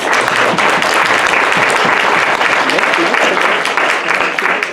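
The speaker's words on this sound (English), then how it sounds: "can we give a round of applause for the Black intelligence that we just had before us?" Audience applause at a Black History Month lecture, dense sustained clapping from a crowd, loud and steady throughout with some voices mixed in.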